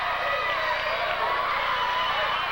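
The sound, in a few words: wrestling crowd cheering wildly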